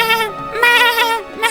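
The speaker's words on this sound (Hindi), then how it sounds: "सेठ इधर उधर देखता है तो उसे एक घायल बकरी मिलती है।" An injured goat in a cartoon story gives a loud, wavering bleat, close and sustained with a couple of quavering pulses.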